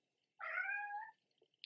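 Darcy, a newly adopted cat, gives a single clear, drawn-out meow from outside a door, close and loud against an otherwise quiet room, followed by a faint brief tick.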